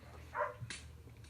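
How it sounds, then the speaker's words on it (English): A single brief, faint dog bark, heard indoors at a distance over a low background hum, with no talking over it. "Bark."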